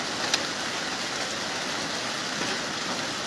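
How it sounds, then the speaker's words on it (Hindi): Steady rain falls in Bandipora, Kashmir, an even, continuous hiss at moderate level with a faint tap or two and no talk. "वादी कश्मीर के इस वक्त मैदानी इलाकों में बारिशें हो रही है।"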